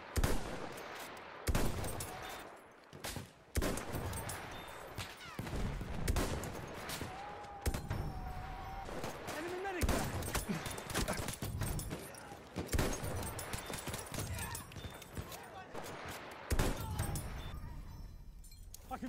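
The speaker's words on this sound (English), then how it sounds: "Enemy machine gun!" An enemy machine gun rattles in bursts during a video game battle, amid scattered gunshots and sharp impacts, with voices calling out over the din.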